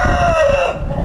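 A broody hen settled on her nest gives a loud, close, drawn-out vocal call, a single sustained cluck-like tone lasting about a second.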